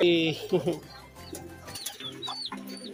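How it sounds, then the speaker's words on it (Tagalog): Pet crested pigeons coo nearby in soft, throaty bursts, with a few higher chirps and rustles scattered through. "yung mga alaga nating kalapati dito sa area"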